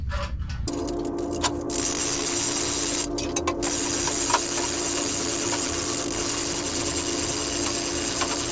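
A core drill starts up on a rock vein with a couple of short sputters, then settles into a steady, continuous motor drone that runs to the end from close by.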